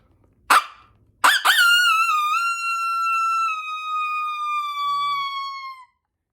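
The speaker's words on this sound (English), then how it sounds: "So your invitational howl." A coyote invitational howl, likely from a call used in winter coyote hunting, opens with two sharp yips, then rises into a long, clear, steady wail that peaks and slowly rolls over before cutting off.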